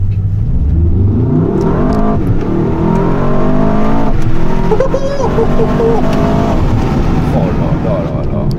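Mercedes-AMG S63 E-Performance V8 engine heard from inside the car, a loud, continuous deep rumble rising in pitch as it revs and accelerates, with someone talking over it.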